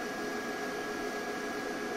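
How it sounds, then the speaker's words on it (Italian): A microwave oven runs in a home, giving a steady even hum with a faint constant tone, continuous and moderately quiet with no voices. "microonde acceso"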